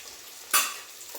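Sliced cabbage hits a hot pan of onions over high heat, giving a sudden loud sizzle that swells then fades over a fraction of a second, with a faint stirring scrape near the end.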